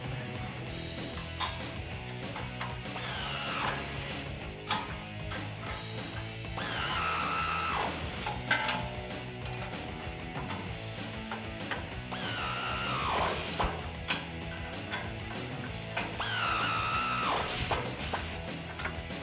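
A power tool with a 19mm socket tightens the bolts of a RedRock tubular off-road rear bumper on a 2007-2018 Silverado or Sierra 1500, loud close whirring and ratcheting bursts repeating in several spells.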